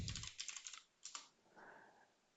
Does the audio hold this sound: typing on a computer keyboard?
yes